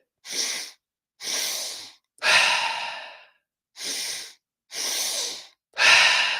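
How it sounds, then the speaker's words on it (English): Rapid breathwork pattern of forceful breaths through the nose and mouth, two sharp inhales followed by an exhale, repeated in two close sets, six loud bursts with brief silent gaps between them. "Notice it's 3 parts. Inhale, inhale, exhale."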